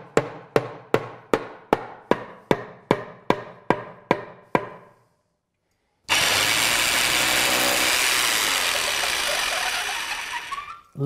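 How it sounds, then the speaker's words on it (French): A drill bores into a hollow plasterboard wall after a dozen sharp evenly spaced hammer-like knocks, then a pause and a loud continuous drilling whir lasting about five seconds, close up, with no talk. "La mèche s'est enfoncée d'un seul coup et la poussière est blanche."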